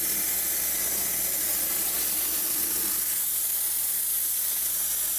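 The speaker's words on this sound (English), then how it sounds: "and then if I close it down, there's more dry steam." A cheap handheld clothes steamer from Amazon hisses out a steady stream of dry steam, a close, continuous broadband rush that eases slightly partway through, with no talking.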